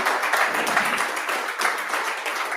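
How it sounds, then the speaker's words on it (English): Dense, continuous clapping from a workshop audience for a presenter, steady and even for a few seconds with no pauses. "Please give again a big applause for our presentator"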